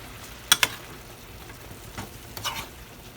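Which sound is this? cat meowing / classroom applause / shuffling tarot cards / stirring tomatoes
stirring tomatoes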